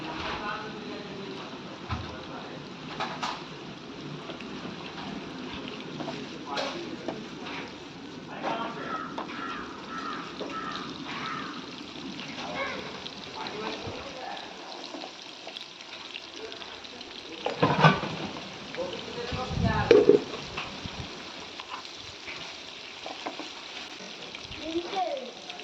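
Paneer cubes frying in a pan for paneer 65, a steady low sizzle running throughout with occasional clinks and scrapes, louder utensil knocks near the end.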